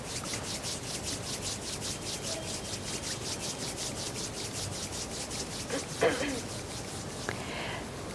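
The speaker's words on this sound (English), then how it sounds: "gently rub the palms of your hands against each other" Palms of the hands rubbing gently against each other at chest level during a guided relaxation in a sacred garden, a steady soft swishing friction that continues throughout at low volume.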